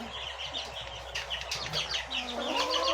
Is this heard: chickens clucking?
yes